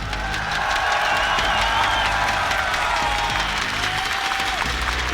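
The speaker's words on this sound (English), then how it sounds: "All right, Montreal, make some noise!" A big arena crowd at a Rainbow Six Siege esports playoff in Montreal cheers and applauds in a steady, dense roar, with scattered whoops rising over the continuous clapping throughout.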